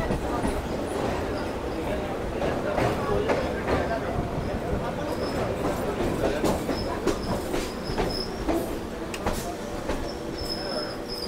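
A train clatters steadily along its rails on the Howrah–Salkia route near the Ganga, with wheel rumble and repeated clickety-clack under a constant loud roar, mixed with faint chatter from passengers.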